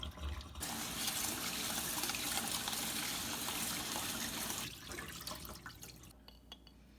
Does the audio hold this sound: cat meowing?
no